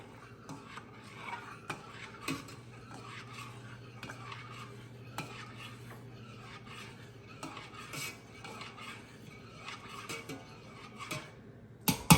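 A spoon stirs rinsed rice in a pot of boiling water, giving soft repeated scraping and clinking against the pot over a steady low bubbling, close and fairly quiet with no talk.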